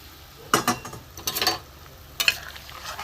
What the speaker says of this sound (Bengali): এই যে আলু পটলটা আমি দিয়ে দেবো।